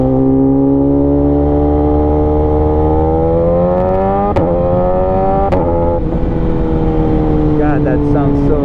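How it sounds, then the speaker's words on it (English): A BMW S1000RR motorcycle with an SC Project exhaust revs loudly and close, its engine tone climbing steadily with a couple of sharp crackles, while someone talks over it. "That SC Project exhaust. It is loud. It's definitely loud."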